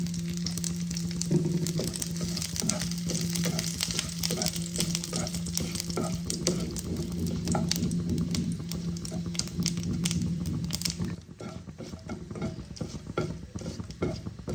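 Dry red chillies, bay leaves and whole cumin sizzle in hot oil, a close, steady frying crackle with faint stirring clicks, easing off near the end.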